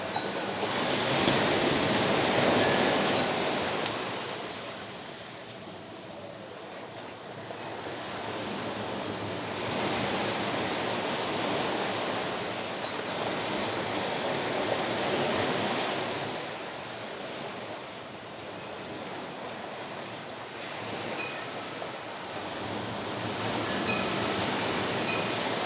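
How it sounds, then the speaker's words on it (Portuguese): Sea waves wash in and break in slow, rolling swells at a moderate distance, a soft continuous surf that rises and falls with no voices over it. "Fiquem agora um pouco com a respiração e com este barulho do mar."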